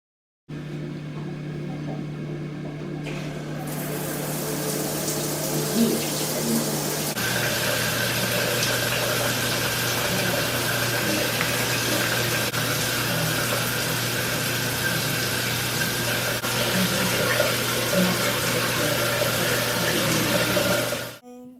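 Shower water runs steadily and fairly loudly while skincare products are rinsed off, a constant broad hiss that holds for about twenty seconds before cutting off.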